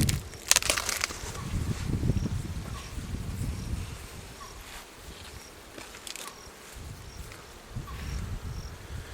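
Upper box of a beehive lifted off the hive body, with wooden knocks and scraping up close while a steady hum of many active bees buzzes throughout, louder at the start.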